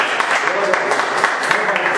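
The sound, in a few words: applause in church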